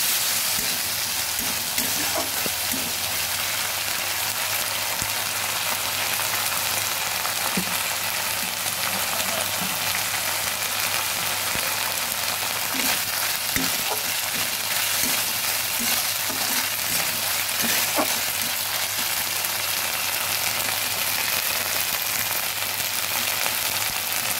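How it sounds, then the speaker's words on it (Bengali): Ginger frying in a pan with a splash of water, a steady broadband sizzle running continuously throughout with occasional soft stirring clicks, close and fairly loud, no talking. "ভালোভাবে আদাটা ভেজে নিলাম"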